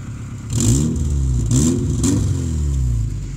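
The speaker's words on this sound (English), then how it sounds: "my exhaust leak has gotten far worse" A Subaru GC Impreza engine idles and revs up a few times with a deep, rough exhaust note from a worsening exhaust leak, loud and close with a clattery edge and no talking.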